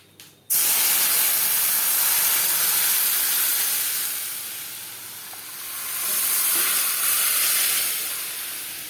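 Dal poured into a pan of fried vegetables bursts into a loud sizzle that starts abruptly, then hisses steadily, swelling and easing in waves.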